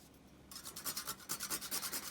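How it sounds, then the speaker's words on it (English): Fresh whole nutmeg rasped against a grater over sponge cake batter of flour and baking powder; after a short quiet start, steady rhythmic scraping strokes repeat close up, with no talking. "I'm going to go in and grate some fresh nutmeg in here."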